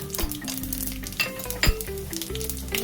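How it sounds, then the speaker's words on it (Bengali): Bay leaves, dried red chillies, whole garam masala and five-spice seeds hit hot oil in a pan for an Indian dish, giving a steady, close sizzle with sharp crackles and pops throughout. "শুকনো লঙ্কা দুটো একটু ফাটিয়ে দেব, আর গোটা গরম মশলা আর 5 ফোড়নটা দিয়ে দেব।"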